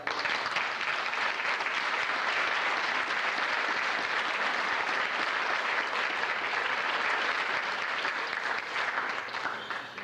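A banquet crowd at a basketball awards night applauds in a sustained, even roar of many hands that holds steady for about ten seconds, then starts to taper.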